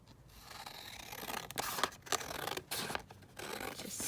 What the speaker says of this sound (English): So I'm just going to cut this down.